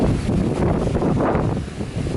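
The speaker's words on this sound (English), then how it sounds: "The Isle of Man is a windy place to live." Strong wind on the Isle of Man roars steadily across an outdoor microphone in a garden, a dense, loud rumbling buffet with no voices.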